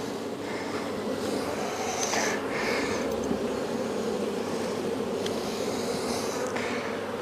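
Honey bees swarm around an open hive box as it is rebuilt, a steady close buzzing hum that fills the whole clip without pause, with faint rustling and no talk.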